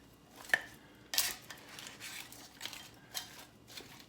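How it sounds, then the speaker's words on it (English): A spoon scrapes and clinks against a pot of sausage and white bean soup while it is stirred, giving faint, close, intermittent metallic taps and scrapes. "May give that a quick little stir around before I do the kale."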